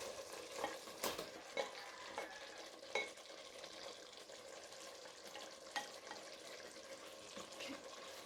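Beef curry stirred and frying in a pot, a steady sizzle with a few scraping clinks of a spoon near the start and middle, close and moderately quiet with no talking.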